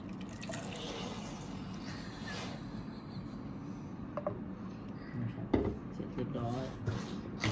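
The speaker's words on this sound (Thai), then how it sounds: "ทีนี้เราก็เติมน้ำครับ3ออนนะครับ" Boiled water trickles and drips into a container while mixing a baby's food, soft liquid pouring under someone talking throughout, with a few small clinks of the container.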